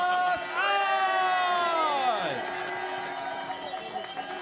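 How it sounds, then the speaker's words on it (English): Spectators cheer and whoop at the finish area of a luge World Cup race in Winterberg, Germany, a broad crowd roar swelling at once with whistle-like tones over it and then easing off slowly. "Big cheer for Wendel and Alt."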